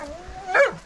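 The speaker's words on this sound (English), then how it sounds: "Is he a good dog?" Edison, a dog just let out of a camper at a campsite, gives a short excited whine that rises into a quick yelp, close by and lasting under a second.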